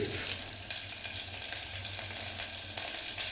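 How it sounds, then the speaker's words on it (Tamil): Onions sautéing in a pan for a village-style fish curry, giving a steady, close, bright sizzle with no talk over it. "இப்போ பார்த்திங்கன்னா கொஞ்சம் வெங்காயம் போட்டு சாட்டேட் பண்ணுறேன்"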